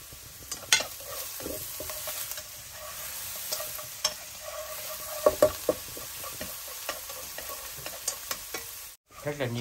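Oil sizzles steadily as chopped vegetables are stirred and tossed in a pan, with scattered clinks and scrapes of a utensil close by, no talking.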